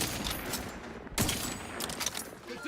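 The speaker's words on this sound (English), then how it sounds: "Look at that, shooting over the railing without looking." Rapid bursts of video game gunfire fill a shooter match, with shots fired over a railing and a sniper fight nearby; dense, continuous crackle with a sharper crack just past the midpoint and more bursts toward the end.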